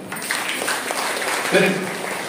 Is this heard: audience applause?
yes